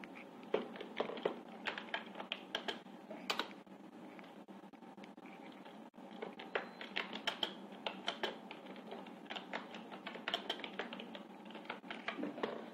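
Rapid bursts of clicking keystrokes on a computer keyboard as a signature is typed, close and moderately loud with short pauses, no speech.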